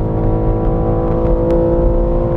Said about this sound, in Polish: To, co mi naprawdę przeszkadza, to brzmienie tego silnika, no, które jest sztuczne.